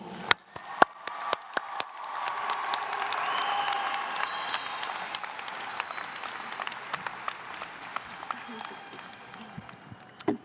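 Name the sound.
graduation audience applause for class of 2024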